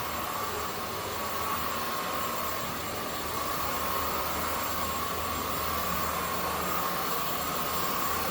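A Hoover vacuum cleaner runs steadily throughout, a loud, even broadband roar with a persistent high whine, continuous and unbroken with no talking.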